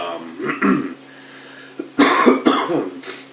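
A couple of short, hoarse coughs up close, the first pair soft and the later ones louder and rougher, with a brief pause between.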